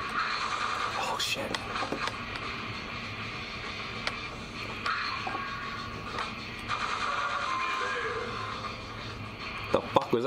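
Repeated horse neighs and whinnies ring out amid busy Quake Live game effects, with hoof clip-clops and sharp impacts scattered through, while someone talks over the action.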